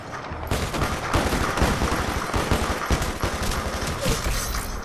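Rapid bursts of SSMG submachine gun fire in a shooting video game, loud and close, with repeated rattling volleys and brief gaps over nearly five seconds.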